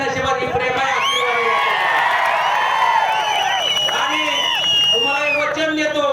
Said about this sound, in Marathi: असा जल्लोष पाहायला मिळतो का सांगा